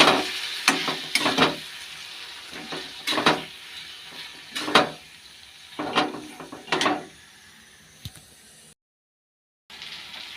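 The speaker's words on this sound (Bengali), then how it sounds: "এই যে আমার মাংসটা কষানো হয়ে গেছে, তেল ছেড়ে দিয়েছে" Meat sautéing in oil left over from frying papaya and potato: a soft background sizzle broken by repeated loud scraping stirs of a spatula against the pan, irregular and close.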